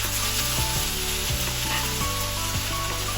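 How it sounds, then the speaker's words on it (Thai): Water spinach is stir-fried in a hot pan with fish sauce and garlic. A loud, steady sizzle runs throughout, punctuated by rhythmic scrapes and clanks of the utensil tossing the greens. "จากนั้นเราก็ผัดให้เข้ากัน"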